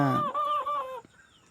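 A rooster lets out a single close, loud crow lasting about a second, with a rising then falling call that fades into quiet.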